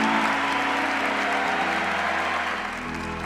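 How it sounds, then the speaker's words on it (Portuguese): Audience applause at a Catholic Canção Nova community gathering after a talk on chastity, a steady, dense clapping that fills the space and eases slightly toward the end. "Pode aplaudir."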